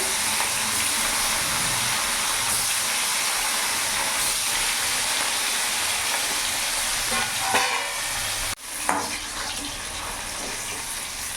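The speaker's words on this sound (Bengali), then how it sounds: "তেল গরম হয়ে গেছে, এবার এক এক করে মাছগুলো আমি ছেড়ে দেবো" A steady, dense hiss of fish frying in hot oil fills the clip, constant crackle of hot oil with a brief drop and jolt near the end.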